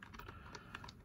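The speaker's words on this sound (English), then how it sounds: "I don't know why I'm typing" Quick, light keystrokes tap on a customizable computer keyboard, a brief irregular burst of close, soft clicks with no talking.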